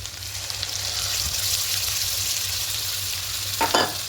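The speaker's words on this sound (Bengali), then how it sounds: "আদা রসুন ছাড়াই মাছটা রান্না করছি। একটু কষিয়ে দেবো।" Katla fish frying in a pan with spice paste as it is sautéed, a steady close sizzle throughout with a brief louder scrape or stir near the end.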